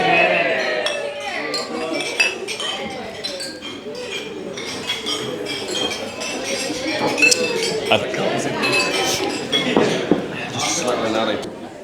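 Glasses clink repeatedly in a quick, scattered flurry as guests toast at a wedding reception, with people talking and chuckling underneath.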